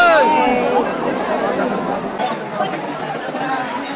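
A dense crowd outside the Khatu Shyam temple chatters in a steady babble of many overlapping voices, close and loud, with occasional higher calls rising above the hubbub.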